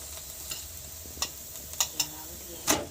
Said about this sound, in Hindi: अब हम अलट पलट के पराठे को सेक लेंगे अच्छे से।